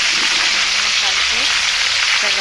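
Starfruit pieces tipped into hot oil with panch phoron and cumin in a pan, giving a loud, steady, dense sizzle that holds from start to finish with no talking.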